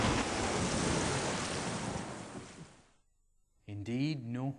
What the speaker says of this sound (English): And then the waves came between them.